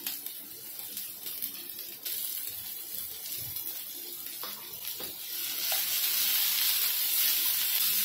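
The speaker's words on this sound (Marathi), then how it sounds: "दोन मिनिटं कोबीने आपण परतून घेऊया" Shredded cabbage stir-frying in a pan over a high gas flame for soya chilli, a steady close hiss and sizzle that grows louder and denser toward the end.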